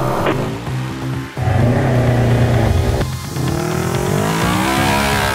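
Polaris UTV race vehicles roar off the start line at the 2014 Best in the Desert Silver State 300, loud engines revving up through rising gears with a brief drop between shifts, close and dominant, no talk.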